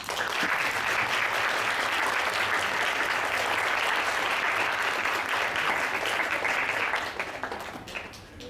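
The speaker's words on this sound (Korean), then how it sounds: "큰 박수 부탁드리도록 하겠습니다" An audience at a youth parliament session applauds a member of the national assembly with loud, steady, continuous clapping that thins and fades over the last second or so.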